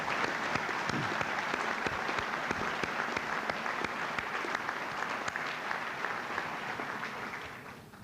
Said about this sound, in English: Shall we applaud that group of candidates again?